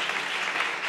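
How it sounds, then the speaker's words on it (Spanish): Congregation applauding during a Spanish-language church sermon, a dense steady wash of clapping filling the whole second with no pauses. "Dale un aplauso a la gloria de Dios"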